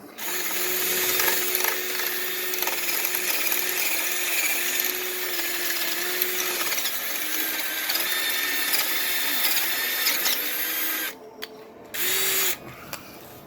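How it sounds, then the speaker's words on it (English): A power drill bores out a hole on an 88-98 Chevy during a steering stabilizer install, whining steadily and loudly up close with slight pitch wavers, then cutting out briefly before one last short burst. "So we're going to continue boring it out."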